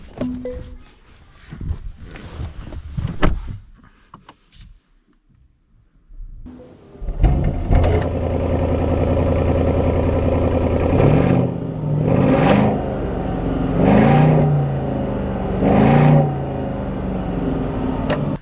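A 2024 Mercedes S580 Executive starts up after some clicks and handling noises, then settles into a smooth engine hum with several rising revs, close and fairly loud.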